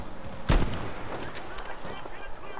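A single loud, close sniper rifle shot rings out in the shooter game Battlefield V and then decays, with game ambience and faint voices under it.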